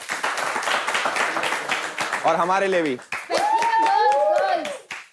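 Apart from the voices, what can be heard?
group clapping for themselves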